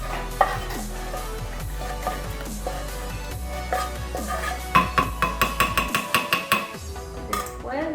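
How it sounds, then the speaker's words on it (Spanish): Thick mole being poured and scraped from a pot into a blender in a home kitchen, with metallic clinks, stirring scrapes and a run of sharp rhythmic taps near the end, all close and moderately loud. "Ahora lo voy a vaciar aquí en la licuadora"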